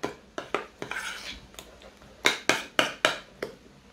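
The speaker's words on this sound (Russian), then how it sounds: "Майонез с чесноком как следует перемешиваем" Garlic being mixed into mayonnaise in a bowl, heard as a series of sharp spoon clinks and scrapes against the dish, irregular at first and then a quicker run of evenly spaced knocks.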